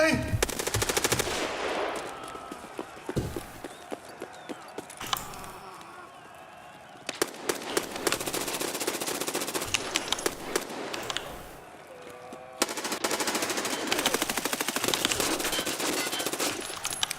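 Rapid automatic gunfire from a video game rattles in loud sustained bursts with short pauses between them, and the quieter stretches carry faint game sounds.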